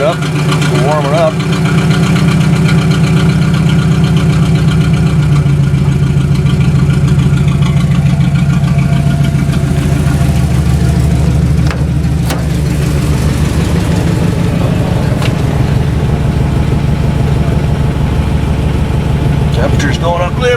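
KITT car engine idling steadily while warming up after the exhaust clears, a continuous loud low rumble throughout with a few faint clicks.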